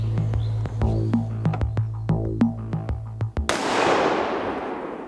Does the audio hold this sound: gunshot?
yes